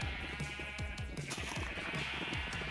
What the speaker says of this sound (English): Then I sheared my sheep.